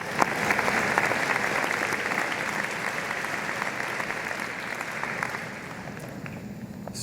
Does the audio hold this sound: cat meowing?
no